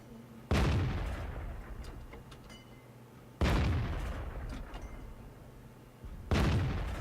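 E-25 tank gun in World of Tanks firing three heavy booming shots in quick succession, each loud blast ringing out and decaying before the next, with no voices.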